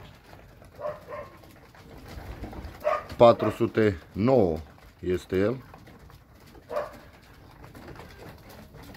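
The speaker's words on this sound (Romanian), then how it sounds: "Așa arată unul din cei 2 porumbei sosiți astăzi." Pigeons cooing in a loft, a freshly arrived bird among a flock being fitted with chips, with several loud rounded coos clustered mid-clip and quieter ones before and after, while someone talks throughout.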